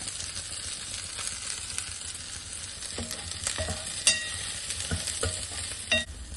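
Grated coconut sautéing with roasted pepper and cumin in a pan for a country chicken curry, a soft steady sizzle broken by several sharp scraping stirs of a spoon toward the end.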